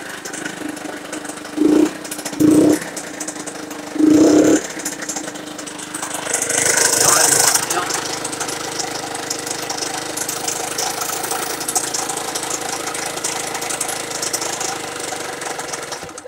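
A Yamaha TZR 50cc moped engine gives a few short, sharp starting bursts, then catches briefly with a rising rasp before sinking into an uneven, sputtering low run nearby.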